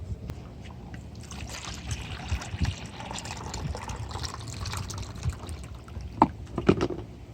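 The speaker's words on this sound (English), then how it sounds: "Let's pour it out. Here, we'll pour it in our cup." Melted ice water from a Yeti cooler pouring into a cup, a steady liquid trickle and splash that runs continuously, close and moderately loud, with a few sharp knocks near the end.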